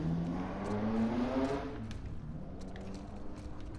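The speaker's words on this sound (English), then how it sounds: "there's a really loud car going around the block" A loud car drives around the block outside, its engine rising in pitch as it accelerates past, then fading into a steady rumble.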